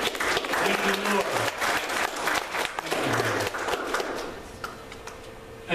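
A church congregation applauding, with dense steady clapping for several seconds under a speaking voice before it thins out and fades near the end.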